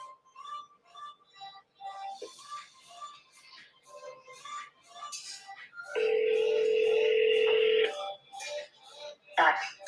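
A phone call being dialed and connecting, heard as a quick series of short tonal beeps followed by a long steady ringback tone lasting about two seconds, with faint voices in the background.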